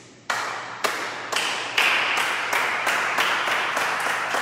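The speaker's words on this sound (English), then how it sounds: "We'll get a safely distance clap up for the three of you." A small group of three people clap in a socially distanced way after a remote workout session, the claps starting in sharp separate bursts and then blurring into a steady patter of applause.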